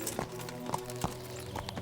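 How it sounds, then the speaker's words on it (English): Horse hooves clip-clop in a steady trot through Kingdom Come: Deliverance, several clear hoofbeats at regular intervals over a constant low game-ambience hum, with no talk. "Hop on horse."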